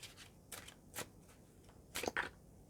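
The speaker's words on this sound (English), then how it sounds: "I'm going to shuffle an extra card because it's for Libra" A deck of cards is shuffled quietly at close range, with a few soft riffling bursts and papery flicks spread over a low background hiss.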